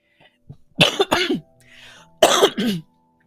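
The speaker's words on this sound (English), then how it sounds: "I've got a little cough" Two short bursts of harsh coughing, close to the microphone, separated by a quiet pause with faint background noise.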